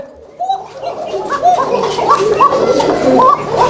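Koka pigeons, a fancy breed kept together in a loft, give repeated throaty coos that rise and fall in overlapping calls, close and fairly loud throughout with no talk.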